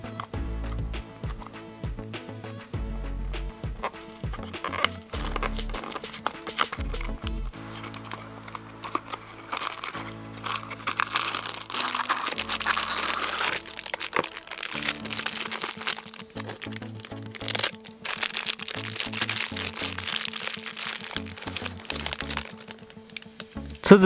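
A Matchbox Ford police car toy is unboxed from its packaging, with a steady run of crinkling, clicking and tearing handling noises up close over a faint hum and no speech.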